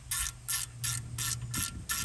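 A ratchet wrench breaks loose bolts on a car's rear hub, with six evenly spaced bursts of loud pawl clicking and a low mechanical hum beneath.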